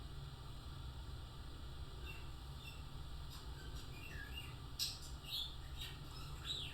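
A pet budgie mimics R2-D2 droid sounds with brief high whistles, warbles and electronic-style chirps scattered over a steady low room hum.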